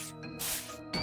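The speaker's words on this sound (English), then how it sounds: "Aha, right, that's spray." A cologne spray bottle being spritzed, producing close hissing bursts: a short spray, a brief pause, then another puff at the end of the clip.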